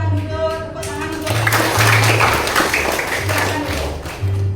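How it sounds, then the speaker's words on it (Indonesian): Sixth-grade schoolchildren clapping in a classroom, a short burst of mixed hand claps rising in the middle of the clip, layered with tonal voices and music-like hum on either side. "tepuk tangan untuk"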